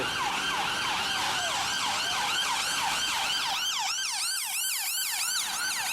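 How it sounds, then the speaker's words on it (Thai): An emergency vehicle siren wails on a busy London street, loud and close, with rapid repeating rising-and-falling sweeps that continue without a break over traffic noise. "แล้วนี่ก็รถหวอ"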